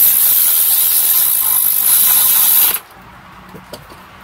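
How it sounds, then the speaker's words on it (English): A Ryobi power tool drives a bolt into a 2010–2015 Prius engine during head gasket work, giving a loud, steady whirring buzz for nearly three seconds before the trigger releases and it stops abruptly, followed by faint clicks. "What you can't see that I'm doing with this Ryobi is I'm pulling the trigger a lot for that fast speed"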